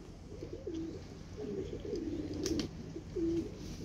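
Pigeons in a rooftop coop coo softly in several low, rolling phrases. The calls are close but quiet over a faint background hum, with a brief rustle in the middle.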